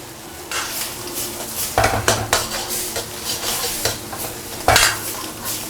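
Chopped scallions and egg being stir-fried in a wok, with a spatula repeatedly scraping and stirring against the pan over a steady sizzle, including a few sharper clanks.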